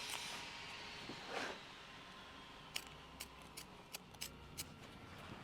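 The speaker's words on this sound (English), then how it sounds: "just going to take the scissors and pull our staples up here and just cut the excess away" Scissors snip away excess carpet and pull up staples inside a Model A Roadster under restoration, a run of short, crisp clicks spaced about half a second apart over quiet room tone.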